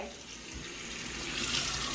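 Tap water running steadily into a sink for washing face and brushing teeth, a continuous close hiss that swells slightly toward the end, with no talk over it.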